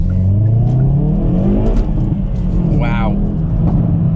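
A 2022 Hyundai i30N front-wheel-drive hot hatch accelerates from inside the cabin, engine note climbing steadily in pitch with a brief whir, loud and close, while someone talks over it.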